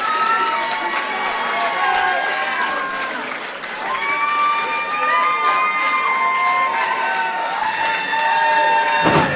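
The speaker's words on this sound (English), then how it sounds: "Crowd's on their feet. Standing ovation" Loud applause and cheering from a large crowd giving a standing ovation at an MMA event, sustained throughout, with whistles and shouts rising over the clapping.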